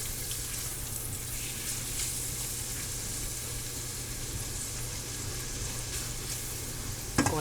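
Shrimp stirred in a hot pan give a steady, close sizzling hiss that holds evenly throughout, with a brief clatter of utensil on pan right at the end.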